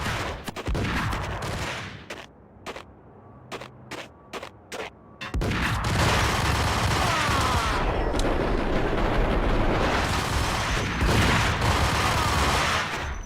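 Gunfire rattles in a shootout in the video game Max Payne, first as scattered single shots and short bursts, then as a long, loud, dense barrage.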